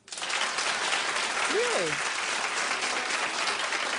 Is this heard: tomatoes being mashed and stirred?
no